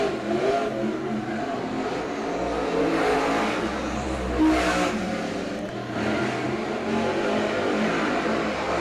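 Race cars running around the Coles County Speedway track, engines revving and surging as they pass, with roars rising and falling at mid distance over a steady background of engine noise.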